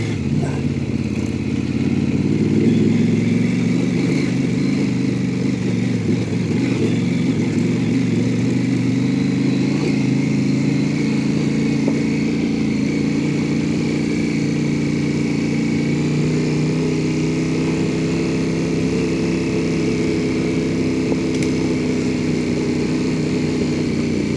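A big adventure motorcycle ridden off-road along rutted ridges on a fall group ride. Its engine drones loudly and continuously nearby, rising and easing in pitch with throttle for the whole stretch.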